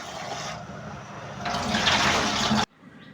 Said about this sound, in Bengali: আমি ধুয়ে নিলাম কুমড়োর ফুলগুলো সুন্দর করে